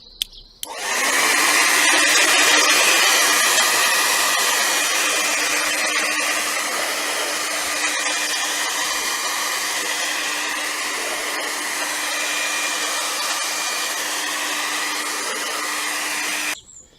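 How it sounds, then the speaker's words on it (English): A hairdryer blasts heat over the metal bodywork of an Astra G mk4, a loud, steady whirring blow that runs unbroken for about sixteen seconds with no talking. "I'm just going to blast over the car with a hairdryer just to get a bit of heat on the metal."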